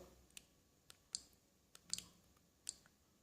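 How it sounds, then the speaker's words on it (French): Button presses on a small sports action camera, a few faint sharp clicks spaced irregularly, close up in a quiet room with no talking. "on appuie sur le bouton d'en bas"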